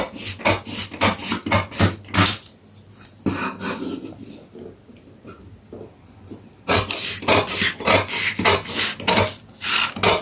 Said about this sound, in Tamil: இப்போ கட் பண்ணுறேன் பாருங்கள்.